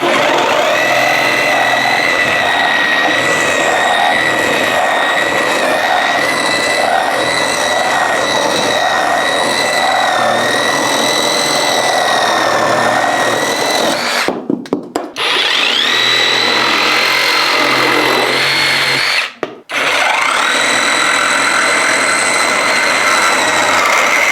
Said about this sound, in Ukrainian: Як впорається наша нова акумуляторна шабельна пила DRS 201 BC Compact?